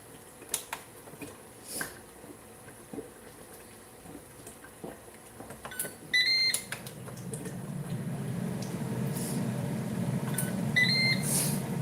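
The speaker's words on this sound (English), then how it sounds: "If you hear the noise going on in the background, it's going to be from the air fryer" A steady low whirring hum of an air fryer running, growing louder in the second half, with scattered clicks and faint beeps in the room.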